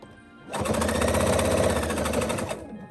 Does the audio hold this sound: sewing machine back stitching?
yes